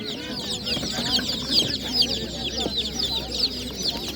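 Chickens at a Ukrainian animal market, clucking continuously and fairly close, many overlapping calls forming a busy chatter over a low background murmur.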